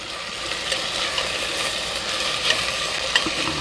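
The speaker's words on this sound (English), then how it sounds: "so I got my big metal spoon" A big metal spoon stirs vegetables sweating in a pot for jambalaya, giving a steady soft sizzle with light scraping and occasional clinks of metal against the pot, close and alone.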